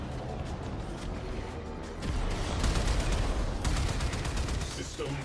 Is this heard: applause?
no